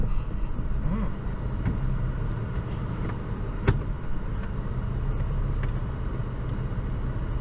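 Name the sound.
car engine driving an off-road trail in 4-low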